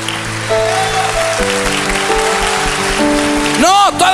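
A church congregation claps steadily together in a dense, rain-like patter, loud and close, under sung or held voices with sliding tones near the end.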